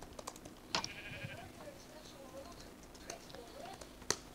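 A sheep in the video game Minecraft bleats in a faint wavering call, mixed with scattered keyboard clicks and light background noise.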